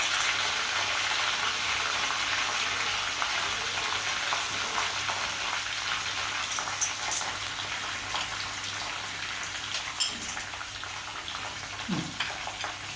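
Steady, dense sizzling of urad and chana dal, curry leaves and cashews frying in oil for a pesarattu upma tempering, with occasional soft stirring clinks and scrapes.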